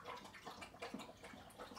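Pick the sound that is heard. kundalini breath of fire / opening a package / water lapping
water lapping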